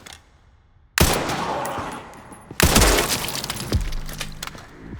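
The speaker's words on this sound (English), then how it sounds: "We'll check with the rifle too to see how the recoil is on that" Rifle fire in Resident Evil Requiem, two loud bursts of rapid, crackling shots with glassy shattering, each burst trailing off into noisy debris.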